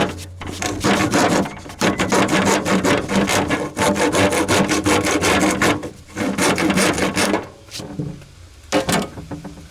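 A hand saw cuts an inch off a paint roller sleeve in quick back-and-forth rasping strokes, close and loud in bursts with brief pauses between runs.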